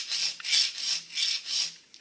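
A 3/16 round file sharpening a Husqvarna 445e chainsaw chain rasps in five even strokes, each a close, gritty scrape with a short pause between, alone without talk.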